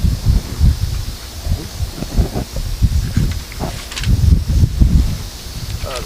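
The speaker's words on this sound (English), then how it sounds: "This wind's gonna kill me." Gusty wind at a soccer field buffets the microphone in uneven low rumbling bursts, with a faint rustling hiss underneath.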